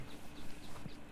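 Horse hooves clip-clopping in Red Dead Redemption 2, a quick run of soft rhythmic hoofbeats over steady game ambience, moderately close and fairly faint, with no talk.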